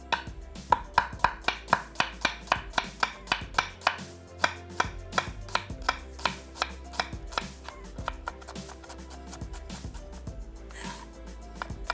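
A medium onion being chopped by hand with a knife on a board, steady rapid knife strikes repeating through the whole stretch, close and crisp, with no talking.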